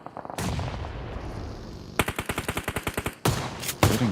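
Gunfire in the video game PUBG Mobile at a global championship match: a long, fast, evenly spaced burst of automatic shots, loud and close, followed by more sharp shots with no talk over them.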